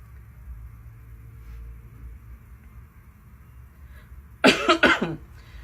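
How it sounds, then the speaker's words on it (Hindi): A man with a cold gives a short burst of two or three loud, close coughs after a stretch of quiet room noise. "थोड़ी सर्दी खांसी हो रखी है भाई को।"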